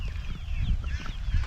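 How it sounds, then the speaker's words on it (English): Pasture-raised chickens roaming outdoors make soft, scattered clucks and short calls over low rustling and ground noise, close by and with no talk. "just so you kind of see our chickens just roaming around out here"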